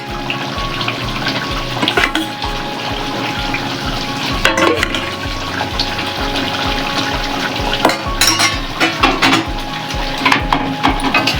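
Eggs cook in a boiling coconut milk gravy, giving a continuous loud bubbling and sizzling with occasional clinks and knocks of a utensil against the pot, close up with no talk.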